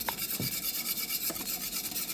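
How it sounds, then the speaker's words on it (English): A whisk scraping and stirring an eggnog mixture in a bowl, with soft rhythmic rubbing and swishing strokes, close and quiet, plus a couple of light taps against the bowl. "Whisk that in."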